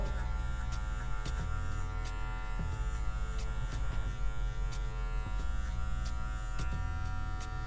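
Electric hair clipper buzzing steadily while cutting a fade haircut, its corner edge held at a 45-degree angle against the hair, a continuous close, loud drone with short repeated strokes throughout and no talking.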